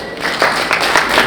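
A crowd at a Graceworld Foundation charity gathering claps in a steady wash of applause, fairly close, with light swells in loudness and no clear voices.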